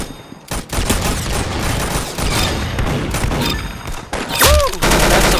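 Loud, continuous rapid gunfire fills an Arsenal video game speedrun, with dense overlapping shots and a brief sweeping tone near the end.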